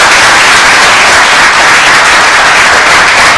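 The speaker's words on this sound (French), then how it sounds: "On va applaudir ces jeunes garçons qui sont avec nous." An audience at a television show in Bobo-Dioulasso applauds young boys, a dense, loud, continuous wash of clapping filling the whole moment.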